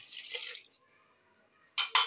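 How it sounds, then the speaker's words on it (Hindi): Tamarind water is poured into a cooking pot for aloo tahari, with a short hissing splash, a pause, then a second louder burst of pouring at the end. "ये इमली का पानी मैंने इसमें डाल दिया"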